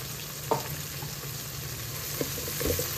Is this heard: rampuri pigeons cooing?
no